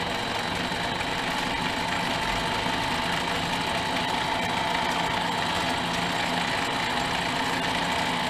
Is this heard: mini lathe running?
yes